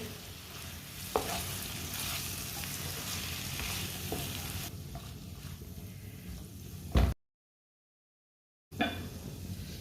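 Radish (mooli) sabzi sizzles and fries in a pan while a spoon stirs it steadily, scraping and sizzling loudly for several seconds before a brief silence and then frying again.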